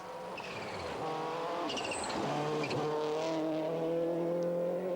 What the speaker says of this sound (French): Bruno profite de cette dernière matinée de test pour se familiariser avec les réglages terre de sa Subaru